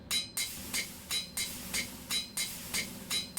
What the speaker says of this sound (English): The forge hammer beat.